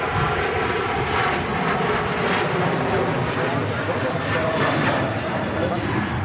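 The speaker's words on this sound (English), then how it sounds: "Ryanair on the roll." A Ryanair airliner rolls down the runway for takeoff, its engines producing a steady, loud broadband roar with wind rumble that holds throughout and is neither clearly nearing nor fading.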